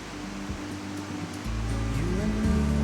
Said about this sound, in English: So I can just hear the Weir.